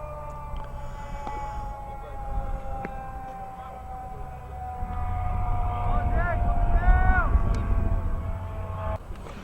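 An emergency vehicle siren from an ambulance and fire truck on a nearby highway wails steadily at a distance, with rising and falling tones, beneath outdoor crowd ambience and someone speaking at a baseball game.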